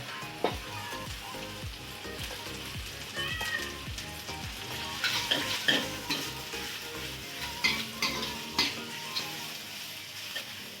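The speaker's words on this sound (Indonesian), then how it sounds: "Kita tumis dulu daun mengkudunya ya." Noni (mengkudu) leaves stir-fry in a pan with a soft sizzle under intermittent scraping strokes of a spatula, close but fairly quiet, no talking.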